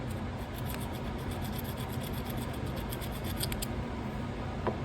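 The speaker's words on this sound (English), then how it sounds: "we'll take the file here, give it a little scratch" A metal file scratched across stainless steel scrap pulled from a car stereo, a series of quick faint rasping strokes over a steady low background hum.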